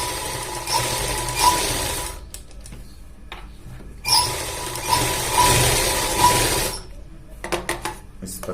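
A sewing machine stitches the back pocket of a pair of pants in two bursts of fast, even whirring with pauses between, and someone talks during the gaps.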